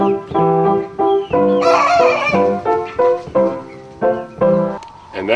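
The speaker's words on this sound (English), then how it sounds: "these are my chickens" Chickens clucking and a rooster crowing close by in a backyard flock, a series of loud short squawks and clucks broken by one longer drawn-out crow in the middle, with no talk.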